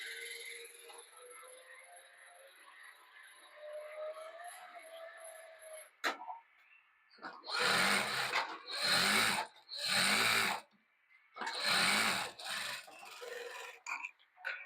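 A sewing machine runs in four loud bursts of stitching around a scalloped neck design, each run a second or so with short pauses between, after a quieter stretch of room hum and faint talk.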